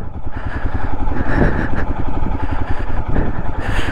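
A motorcycle rides loud and close on a rough, broken mountain road toward Khardung La, its engine thrumming steadily with rattles and clatter from the uneven surface.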